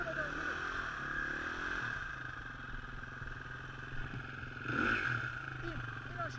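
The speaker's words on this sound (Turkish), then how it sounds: "Çok gaz verme motora." Motorcycle engine idling and revving with steady throttle, a brief louder surge near the end, heard under a voice giving instructions outdoors.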